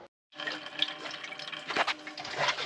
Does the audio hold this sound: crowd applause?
no